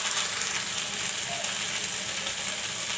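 Sliced okra frying in a pan, a steady close sizzle with bright crackle running evenly throughout without pause.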